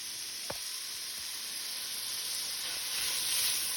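Tomato paste sizzles in a pot of bean soup, giving a steady close hiss with a couple of faint clicks, and the frying noise swells slightly toward the end.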